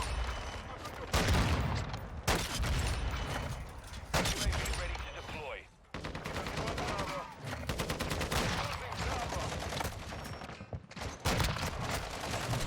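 Rapid gunfire from a weapon in Modern Warfare 2, loud bursts and sustained volleys running nearly throughout with brief pauses, layered under game effects and someone talking over it.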